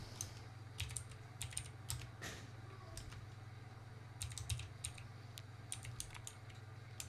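Search being typed on a computer keyboard, with quick irregular clusters of soft close key clicks over a constant low electrical hum, no talking.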